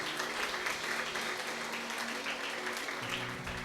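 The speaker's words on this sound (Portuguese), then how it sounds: "Uma salva de palmas para Jesus" A church congregation claps together in praise at a worship service, a steady, fairly soft wash of applause with faint tonal sound underneath.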